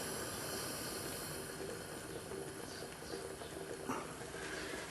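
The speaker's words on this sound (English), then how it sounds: "As it's coming up to the boil there, I'm just going to turn the heat down." Rice in a pan of water coming up to the boil gives a steady, continuous hiss and bubbling simmer that holds close and even throughout, with faint kitchen clatter near the end.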